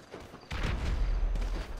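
Shotgun fire rattles in a Grand Theft Auto V online match, a dense, booming burst of shots beginning suddenly and continuing for over a second, fairly faint in the mix.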